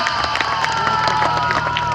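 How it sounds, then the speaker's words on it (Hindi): A school audience applauds loudly and steadily to welcome a girl receiving the Indira Priyadarshini award, with crowd noise and scattered cheers blending into continuous clapping. "जोरदार तालियों के साथ स्वागत।"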